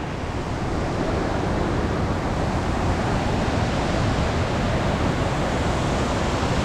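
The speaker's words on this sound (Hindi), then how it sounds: "ये रहा वाटरफॉल, कितना प्यारा लग रहा है भाई" A waterfall and river rush steadily on the Kheerganga trek, a dense, even roar of water that stays loud and unbroken throughout with no voices over it.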